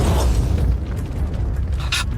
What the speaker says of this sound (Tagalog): Sumabog ito ng malakas at agad na agaw ang atensyon ng lahat.